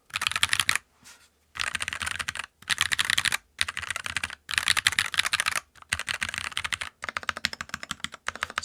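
Rapid bursts of clacky keystrokes on a NuPhy Halo 65 wireless mechanical keyboard, typed close up in several quick runs separated by short pauses, with no voices.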